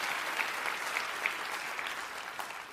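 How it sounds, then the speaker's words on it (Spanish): A church congregation claps during a sermon, steady dense applause with a few sharper claps standing out, moderately loud and continuous throughout with no talking over it. "si vas a aplaudir, hazlo con ganas el día de hoy"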